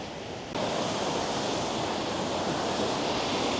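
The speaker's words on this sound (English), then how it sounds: "So we stopped here at this waterfall, and the name of it is Rutledge Falls." Rutledge Falls, a waterfall in Tennessee, gives a steady, broad rushing roar close by, unbroken for several seconds after a brief quieter start.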